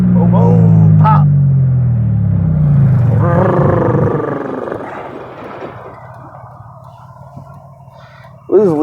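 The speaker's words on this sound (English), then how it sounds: "it should make some nice little poppy noises" A Pontiac Grand Prix, on its last drive before scrapping, rumbles loudly and then eases off as it decelerates, with faint pops near the end and people talking inside the car.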